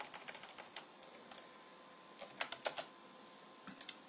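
Typing a short folder name on a computer keyboard, with quick clusters of light key clicks, a burst at the start and a few more taps later, close and quiet with no talking.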